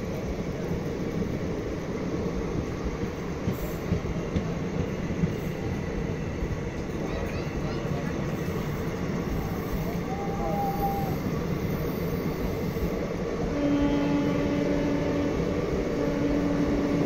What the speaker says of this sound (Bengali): ট্রেনটা দেখ স্পিড নিয়ে নিয়েছে